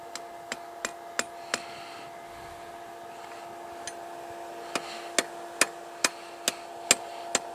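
A hammer strikes a fire poker on an anvil during forging, ringing with sharp metallic taps in a steady rhythm, a quick series, a pause, then another run of louder blows, close and alone.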